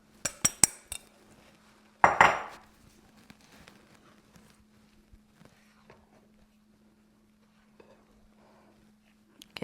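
Dishes and utensils clatter into a kitchen sink during cookie baking, with a burst of sharp clinks near the start and a louder crash of clanking after two seconds, then faint scattered taps over a steady low hum.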